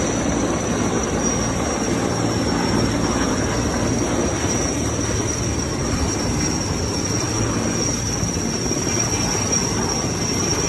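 Helicopter hovering low while drawing water from a pool, a loud, steady rotor and turbine roar with a persistent high whine, unbroken and close throughout.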